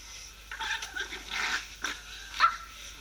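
Dogs whimper and yip softly in a few short, high-pitched bursts, with faint background noise between the cries.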